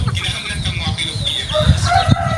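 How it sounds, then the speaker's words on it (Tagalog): Chickens cluck and squawk close by while a rooster crows, a busy, dense barnyard chorus throughout. "ito yung mga manok ko"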